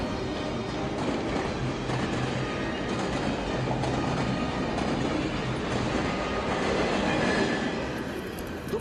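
A Sormovo steam locomotive train rumbles past at a steady distance, with continuous rolling wheel clatter and faint squealing over a dense, even noise bed, heard without voices.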